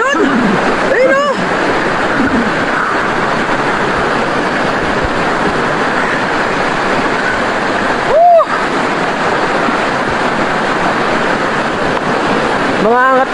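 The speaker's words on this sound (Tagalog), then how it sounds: "Lakas ng alon!" Strong sea waves crashing and splashing on a shore, a loud continuous roar of surf with wind, and brief surges standing out above the wash.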